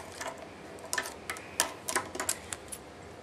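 Duct tape pulled and torn into strips for a craft desk, a series of sharp crackling rips and short snaps in quick irregular bursts, close and fairly faint.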